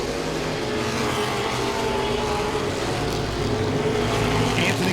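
Modified race cars running side by side at Langley Speedway on a Saturday night, a steady loud roar of several engines droning together without a break and no talking.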